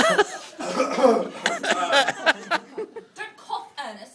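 A cough bursts out during a stage performance of The Importance of Being Earnest, set among lively spoken dialogue and a brief chuckle.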